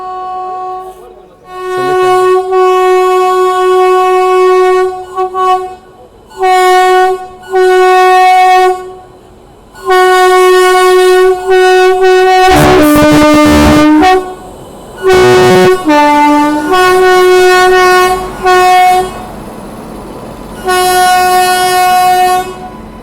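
The Mau–Anand Vihar Superfast Express (22539) sounds its horn in repeated loud toots while arriving and being shunted, with short gaps between blasts and one harsher, louder burst midway.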